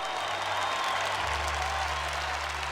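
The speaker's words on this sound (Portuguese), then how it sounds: "aplauda para valer, não aplauda o padre não" Congregation at a Catholic charismatic Mass clapping vigorously for the Lord, a thick, continuous roar of many hands applauding steadily and loudly throughout.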